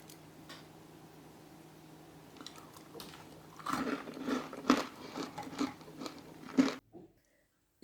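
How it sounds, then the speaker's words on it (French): Moroccan fekkas biscuits crunch in a series of close, crisp bites and chews. The sound is fairly quiet and builds over several seconds before cutting off abruptly. "Je vous laisse écouter le croquant de ces biscuits."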